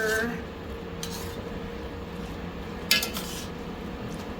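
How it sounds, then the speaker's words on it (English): Pad thai stirred in a pan, a steady low scraping and shuffling of food with a couple of light metallic clinks of utensil on pan, close and fairly quiet, no talk. "So I'm just gonna give that a stir."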